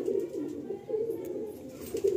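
A pair of Malbai pigeons coo in low, rounded repeated phrases, close and clear, three or four calls rising and falling in a steady rhythm.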